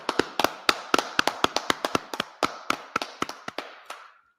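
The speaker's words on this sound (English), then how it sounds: "Clap it up." A group claps together in a gathering, a quick run of about twenty sharp, evenly spaced claps that loosen and thin out before stopping, with no talking.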